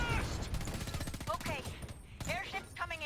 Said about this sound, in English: I should shoot a little.